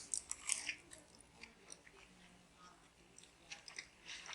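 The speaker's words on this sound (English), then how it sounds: "Listen to the crunch of this." Crisp bites and chewing of a crunchy grilled cheese sandwich, close and fairly quiet, with a few sharp crunches early on followed by softer, scattered chewing sounds.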